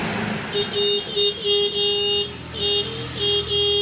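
A thin, feeble motorcycle horn beeps in about eight short bursts, some quick and some held a little longer, over a low background hum; the motorcycle has a faulty ignition coil and stator.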